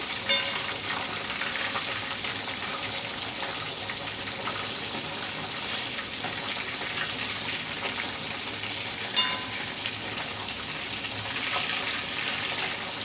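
Chicken pieces fry in oil as they are flipped over, a steady, close sizzle that runs throughout with faint clatters and no voices.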